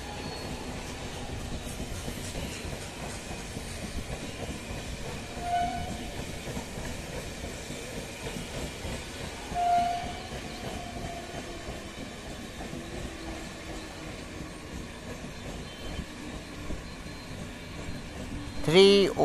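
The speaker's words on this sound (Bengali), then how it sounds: "31624 down Ranaghat Sealdah local Kakinara rail station platform number 2-তে প্রবেশ করলো" A down Ranaghat–Sealdah suburban local train rolls into platform 2 at Kankinara station with a steady, broad rumble of wheels and carriages. Faint squeals and clanks rise from the noise, and a sharp screech comes near the end.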